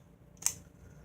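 A Kershaw Shuffle folding knife flicks open in a single sharp, close click, a brief snap that stands alone against a quiet background.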